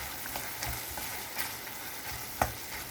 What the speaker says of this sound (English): So that's the reason I have increased the flame and I am stirring it in.